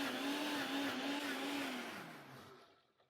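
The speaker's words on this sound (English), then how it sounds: "And then we'll blend this till smooth." A kitchen blender runs steadily, blending avocado basil pesto with a loud, even motor whine that slowly winds down and fades out toward the end, with no voices.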